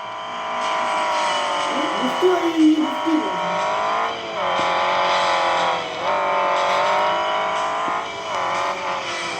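Rally car in the game Rally Fury driving on ice, a steady high engine drone with slight revving dips and brief tire scrubbing near the start, loud and continuous, with someone talking over it.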